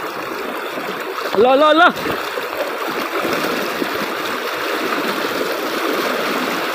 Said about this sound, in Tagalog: Wow, sobrang lakas ng agos dito.